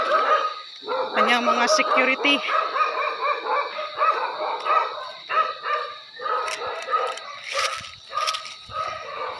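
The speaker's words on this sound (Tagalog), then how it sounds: "Ayan mga aso." Several dogs bark and yip excitedly at close range, overlapping in a busy chorus while a person speaks briefly, in Bohol, Philippines.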